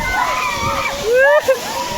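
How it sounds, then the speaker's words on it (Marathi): The 150-foot Subhedar waterfall pours in full flow, a continuous rushing roar beneath people talking loudly nearby. "सुभेदारचा धबधबा किती भरून पडतो बघा"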